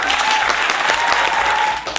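Loud, dense applause with a faint steady tone underneath, during a Thai cooking show making tom yum lobster hot-pot instant noodles with pickled lava egg yolk. It continues evenly, then tapers near the end.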